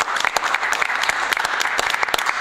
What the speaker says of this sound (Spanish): fuerte el aplauso de nuevo para nuestro equipo femenino de fútbol